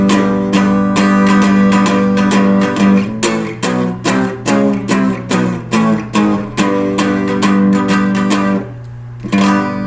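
Full power chord strummed across every guitar string in a beginner lesson, ringing repeatedly in a steady rhythm of loud, close strums with short gaps, played alone without talk.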